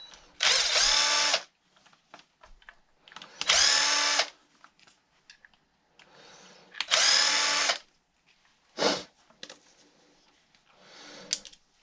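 A power driver backs bolts out of a Traxxas Wide-Maxx RC truck in three loud, whirring bursts of about a second each, separated by short pauses filled with small handling clicks and a brief fourth spin.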